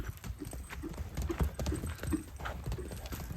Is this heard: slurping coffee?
no